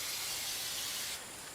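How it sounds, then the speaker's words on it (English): Brake cleaner sprays in a steady, loud, close hiss into a dirty Kawasaki Brute Force rocker arm cover, holding for over a second before easing slightly and continuing. "spray it out with a little brake clean because it's a little bit dirty on the inside"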